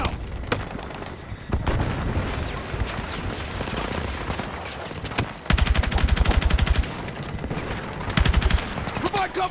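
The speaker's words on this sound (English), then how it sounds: "Provide cover fire!" Sustained gunfire from Battlefield 6 during a campaign mission: loud automatic bursts and single shots rattle almost continuously, with dense rapid volleys in the second half.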